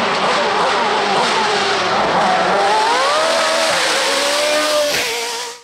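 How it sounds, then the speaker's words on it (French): A Nova V8 race car blasts past at a hill climb in Turckheim, its loud, melodious engine note rising and shifting through gears up close before fading at the end. "la mélodieuse Nova V8"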